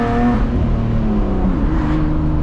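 A BMW E36 engine revs loudly and steadily after an ICV hose replacement, its pitch shifting as it pulls, close and continuous with no talking.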